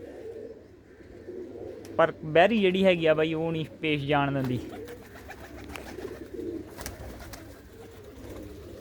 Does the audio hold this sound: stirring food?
no